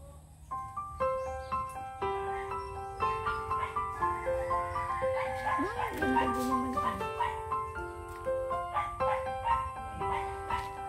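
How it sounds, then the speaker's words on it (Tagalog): A dog barks and yips in short bursts amid a garden of plants and flowers, over a backdrop of sustained tonal sounds, with people talking nearby. "May aso pala din."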